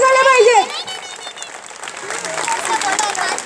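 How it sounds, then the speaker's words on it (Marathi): An audience at a Mangalagaur women's group celebration in Bhandup claps, with a singing voice trailing off at the start and the applause carrying on under lively crowd noise and talk. "टाळ्या झाल्या पाहिजे"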